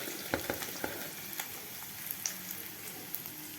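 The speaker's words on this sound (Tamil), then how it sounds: "இந்த வெங்காயம் பச்சை மிளகாய் நல்லா வதங்கணும்" Onion and green chili sautéing in a pan for a cabbage, carrot and pea poriyal: a soft, steady sizzle with scattered small pops and crackles, fairly quiet and close, with no voices.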